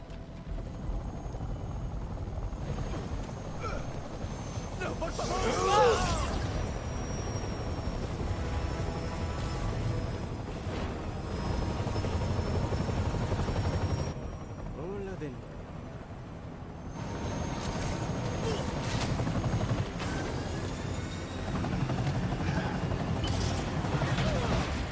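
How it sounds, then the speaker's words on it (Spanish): A helicopter in the Marvel's Spider-Man video game, its rotor a constant loud roar that carries through the whole stretch, with bursts of game action and someone talking over it. "tiene pinta de que se va a ir en ese helicóptero"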